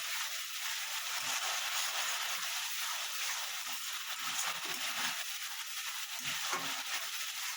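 Spices frying and being stirred in a pan for a vegetarian potato curry, a continuous close sizzle with scraping stir strokes throughout, no voices.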